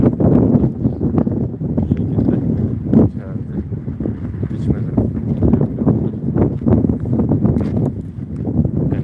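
Steady wind buffets the microphone with a constant low roar on a hot day, while a person talks over it throughout.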